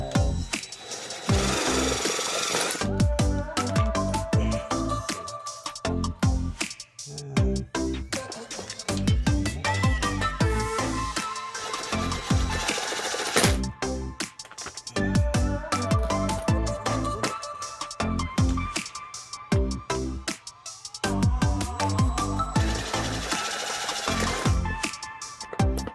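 A power drill fitted with a unibit bores a hole through a thick scooter kickstand, a loud continuous grinding whine that cuts out briefly and restarts in bursts.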